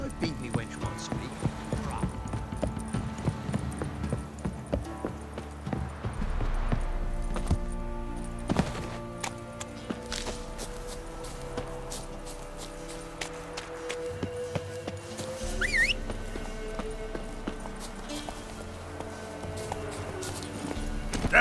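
Hooves of the horse Roach clip-clopping in The Witcher 3, a steady trotting rhythm near at hand mixed with game music and ambient sounds, with voices talking at times over the top.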